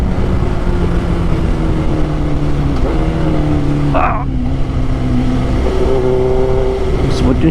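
Suzuki GSX-R 1000 motorcycle, a 2007 model, with a steady engine drone holding and shifting pitch through gear changes, loud and close throughout, with a brief rising rev swell midway.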